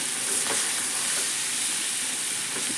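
Potato palya cooks in a pan, giving off a soft, continuous sizzle broken by a few scraping stirs from a spoon. No voices are heard.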